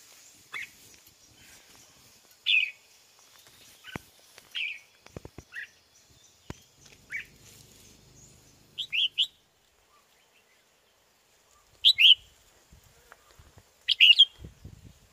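Caged red-whiskered bulbul decoy birds call outdoors in short, sharp bursts of bright chirps, spaced irregularly with quiet gaps, moderately close, along with occasional faint clicks and rustles.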